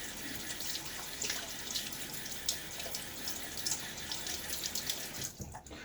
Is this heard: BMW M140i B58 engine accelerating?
no